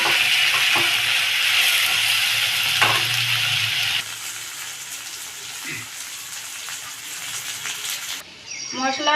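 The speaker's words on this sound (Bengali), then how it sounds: "পেঁয়াজের সঙ্গে আলুগুলো একসঙ্গে ভেজে নেব।" Long-cut potato pieces frying together with onions in a pan, a loud, dense sizzle that crackles continuously up close, easing slightly partway through, with brief stirring scrapes.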